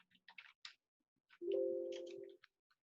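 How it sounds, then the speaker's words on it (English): Scattered, quiet clicks of a computer keyboard being typed on in short irregular bursts, with a steady humming tone sounding briefly partway through. "typing in the dark, right?"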